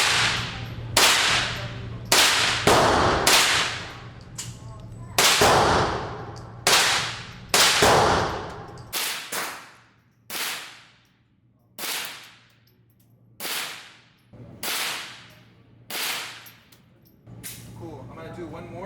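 About twenty sharp gunshots crack at a shooting range in an irregular series, each loud report trailing off with a brief echo, the later shots spaced more evenly and slightly fainter.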